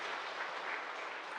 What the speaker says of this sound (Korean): 우리 축하의 박수,